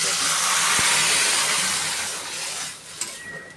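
Dried chili, cumin and onion tempering sizzling in hot oil, a loud, steady hissing sizzle that eases slightly toward the end, with a small clink near the finish.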